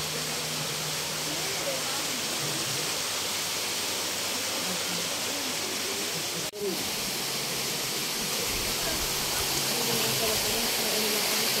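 Kakawayan Falls in Infanta, Quezon pours as a dense, continuous broadband roar, loud and close, with a brief dropout midway before the rushing water resumes steadily.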